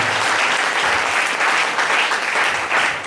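A church congregation applauding during a worship service, loud, dense clapping from many hands, steady and close from start to finish with no talking over it.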